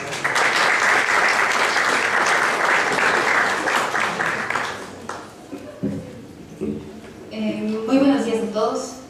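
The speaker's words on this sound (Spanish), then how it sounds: "un aplauso para ella" An audience applauds a speaker at a university architecture faculty event. Dense, loud clapping fills the first half, then it thins out and fades, and voices come in at the end.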